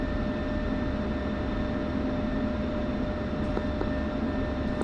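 A military jet in the DCS flight simulator sits on the runway with a steady, loud engine roar and broadband rush that hold constant throughout, with no talk over it.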